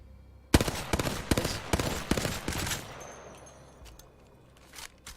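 Hemlock burst rifle fire in a video game: several rapid three-round bursts crack out loud and close in quick succession, then taper into a fading echo with a few faint trailing shots.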